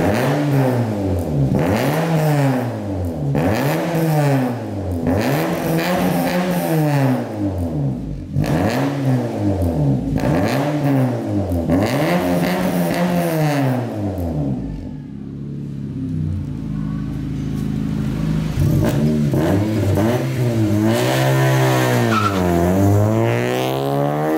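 A Honda Civic FD with a 1.8 engine, aftermarket headers and exhaust, and the catalytic converter removed, revs repeatedly with loud, rising and falling sweeps in a steady rhythm, then settles into a lower idle before one more climb.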